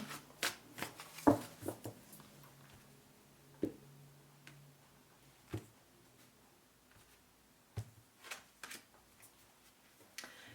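Tarot cards are shuffled in quiet, scattered bursts of soft riffling and sharp tapping clicks, separated by near-silent pauses, close by and with no voice.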